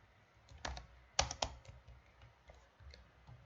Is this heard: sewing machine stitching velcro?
no